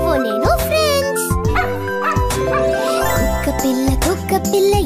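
A cartoon puppy yips and barks in short, high bursts over a bright children's song with music and a sung voice throughout.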